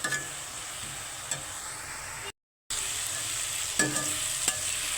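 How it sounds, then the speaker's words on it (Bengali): Mixed leafy greens from a rooftop garden fry in a pan with salt, a steady close sizzle with occasional scrapes and knocks of stirring, broken by a brief gap. "ভাজা করা হচ্ছে।"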